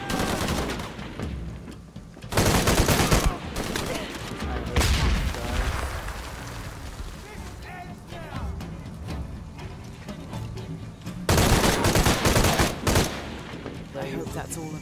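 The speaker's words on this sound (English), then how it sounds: "Why they are using shotgun on me?" Enemy shotgun fire in Shadow of the Tomb Raider booms in loud repeated blasts amid a chaotic gunfight, with bursts of rapid fire between heavy shots and a player talking intermittently over the noise.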